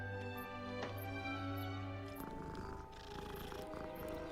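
A cat being petted in a Harry Potter video game purrs softly and steadily, close up, with a faint tonal background and a few light clicks, no voices.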